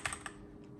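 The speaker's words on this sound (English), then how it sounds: "let's test the keyboard. Listen." A few quick taps on the on-screen keyboard of a Galaxy S9/Note9 phone running One UI 3.1 on Android 11 click close by in a short burst, then fade into quiet room tone.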